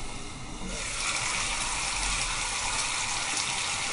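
Water pours from a tap into a pan of tinned artichokes being readied for steaming, starting as a softer trickle and then becoming a steady, close gush that lasts to the end.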